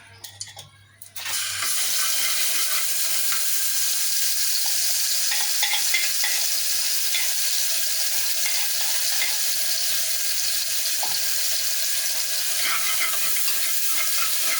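Minced garlic and green chili sizzling steadily in a pan until golden, a dense continuous fry that starts abruptly after a brief quiet moment and carries on with faint stirring clinks.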